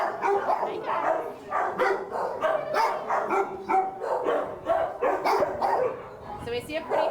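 Dogs in an animal shelter kennel bark repeatedly, loud and close, overlapping in rapid irregular bursts with yips mixed in.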